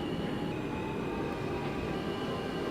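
A subway train in the OpenBve train simulator game rumbles past steadily as a continuous low rail roar with a faint high whine, even and unbroken throughout.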